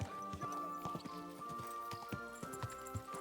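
Horse hooves clip-clop steadily on a town street in Kingdom Come: Deliverance II, a continuous trotting rhythm of sharp, close hoof strikes with game music and ambience beneath.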